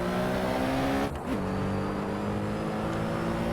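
A Porsche 917K race car driven in Assetto Corsa lets out a loud, steady high-revving engine drone with a brief dip and pitch drop as it shifts up to fifth gear on its five-speed gearbox, then holds the new tone.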